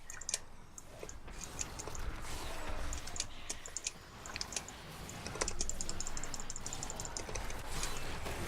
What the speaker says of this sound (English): Spamming that left click there.